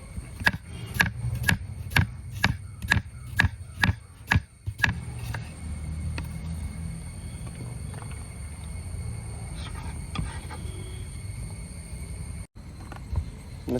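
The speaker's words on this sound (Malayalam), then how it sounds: "നമുക്ക് സവോള അങ്ങ് അരിഞ്ഞു കൊടുക്കാം" Large onions are chopped with a knife on a board: about a dozen crisp, evenly spaced knocks in a quick run, then quieter kitchen background with faint handling sounds.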